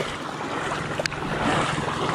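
Choppy waves on a lake wash and slap against a small fishing boat, a steady broadband rush of water mixed with wind buffeting the microphone.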